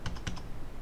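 Keys on a computer keyboard are struck during spreadsheet work, giving about four quick, close plastic clacks within half a second. The strokes are crisp but fairly quiet.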